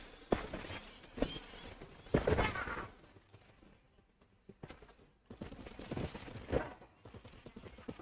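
Gunfire in the shooter game The First Descendant comes through quietly as scattered bursts of sharp shots, with clusters and lulls between them over a low background.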